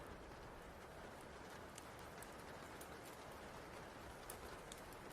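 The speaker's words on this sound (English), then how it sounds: "the rain continues its gentle melody" Gentle rain falls outside a cozy cabin, a steady, even hiss of drops with faint scattered ticks, holding a soft, constant level throughout with no voices.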